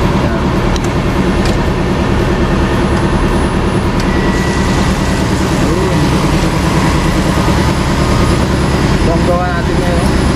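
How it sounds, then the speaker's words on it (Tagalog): A factory machine is preheating, giving a loud, continuous low hum with a steady mechanical drone. It runs unchanged throughout, with faint intermittent voices under it. "Ipipreheat lang natin yung makina."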